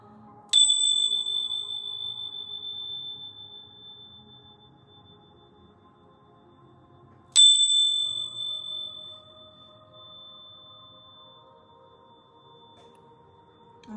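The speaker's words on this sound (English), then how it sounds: "I am going to ring my bells really quickly" Two bright bell strikes ring out about seven seconds apart before a tarot reading, each a sharp metallic ding with a long, slowly fading shimmer in an otherwise quiet room.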